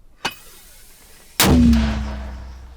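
A brief sharp pop, then a loud, deep mortar blast booms close by and rumbles away over a couple of seconds, fired during mortar crew training with Ukrainian Ground Forces.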